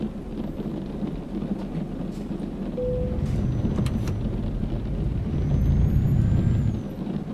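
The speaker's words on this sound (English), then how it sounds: "Handbrake on. Parking brake." A truck's parking brake engaging in Euro Truck Simulator, a brief air-brake hiss over a steady engine rumble and road noise that swells louder near the end.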